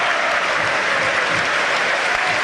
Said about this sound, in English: He's being applauded by the majority inside the King Power Stadium.